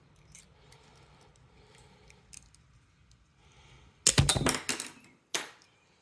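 Old plastic scales being pried off a Victorinox pocket knife: a faint rustle first, then a loud burst of sharp cracking, snapping clicks near the mic and a final single crack.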